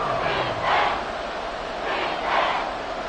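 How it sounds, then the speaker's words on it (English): Football stadium crowd at Arrowhead roaring during a close fourth-quarter game, a dense wash of cheering that swells in two distinct surges. "The Arrowhead crowd in full roar."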